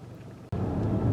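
A 2022 Infiniti QX55 drives at night, a low, steady engine rumble that swells abruptly halfway through and stays loud and close.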